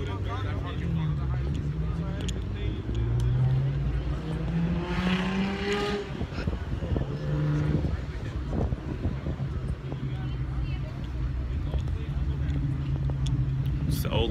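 Engines rumble and rev through a busy outdoor night car meet on Staten Island, with people talking steadily over the low vehicle noise.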